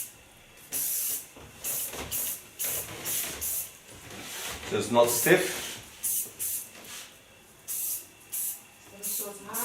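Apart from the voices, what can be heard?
flex hair spray being sprayed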